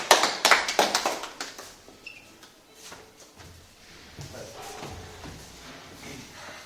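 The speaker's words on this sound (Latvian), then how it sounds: "Aplausos studijā." Brief burst of studio audience applause on a live Latvian television talk show, a flurry of sharp, close claps in the first second or two that quickly thins and fades into quieter room noise.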